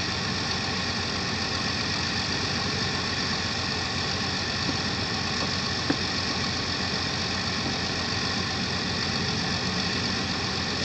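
A mid-model Chevy engine runs at steady high revs during a burnout with the tires spinning, a dense continuous roar and whine that holds unbroken for about eleven seconds with no voices.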